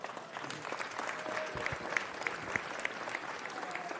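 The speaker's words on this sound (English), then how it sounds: "Give them a round of applause" Applause rolls through a city council chamber during a meeting, moderately distant and steady for four seconds, with a few sharper claps standing out and faint voices underneath.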